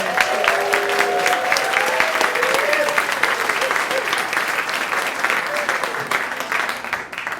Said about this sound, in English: let's give a round of applause to everyone